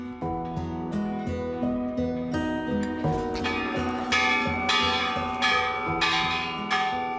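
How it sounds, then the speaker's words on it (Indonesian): Large bells ring repeatedly in Hiroshima, Japan, each strike blooming into a long, resonant echo that overlaps the next in a steady rhythm. "Suara lonceng yang menggema"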